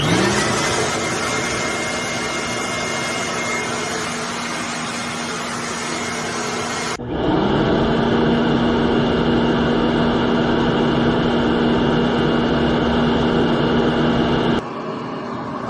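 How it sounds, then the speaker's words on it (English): A dryer vent duct cleaning blower runs steadily with a constant loud whooshing drone, shifting slightly in tone partway through, with no talking. "Of course, right now the blower is what's pushing the air."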